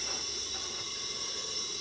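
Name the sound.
smoke machine hissing out steam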